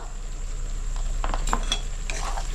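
Ground spices being stirred into chicken in a pan for chicken kosha: a soft, steady sizzle with a few scraping and clinking strokes of a spoon against the pan, fairly quiet.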